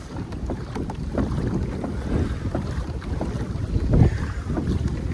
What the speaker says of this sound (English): Got a lot of wind coming up right now.